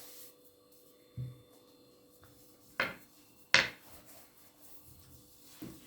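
Baklava dough dusted with starch being rolled out by hand with a thin rolling pin: sparse soft rubbing and thumping strokes on the board, a few louder knocks, otherwise quiet.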